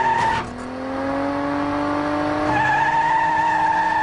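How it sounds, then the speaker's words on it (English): Indy car engine in a racing simulator ride, a loud steady whine with rising harmonic pitch sweeps, briefly dipping before climbing again as the car accelerates, heard alone without talk. "Inside, I'm going to be driving an Indy car, which is a very fast racer."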